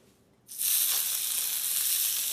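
Onions drop into a hot pot and burst into loud, steady sizzling hiss after a brief quiet moment, holding strong to the end.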